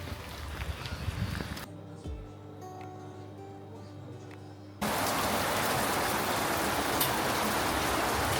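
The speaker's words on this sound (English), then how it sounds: "Raining again." Dense hiss of rain at a shooting competition venue in Poland, broken by a quieter indoor stretch with a low hum, then heavy steady rain returns close by.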